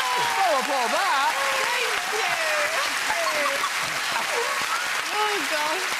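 Studio audience applause on a British talk show, a steady bed of clapping with people talking and exclaiming loudly over it throughout.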